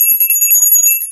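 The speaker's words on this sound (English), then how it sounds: "I had to ring the bell because whenever the energy is thick, I have to ring the bell." A small hand bell rung quickly, giving a bright, high, sustained ringing with rapid repeated strikes, close and loud, and no talking.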